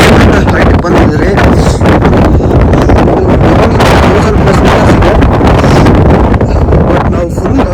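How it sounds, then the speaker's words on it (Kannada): Strong wind buffets the microphone on a foggy hilltop near Chikkamagaluru, a loud, continuous roaring rumble that covers the whole stretch. "ಫುಲ್ ಗಾಳಿ ಇದೆ"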